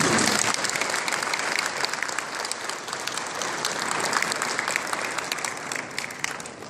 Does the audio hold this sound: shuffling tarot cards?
no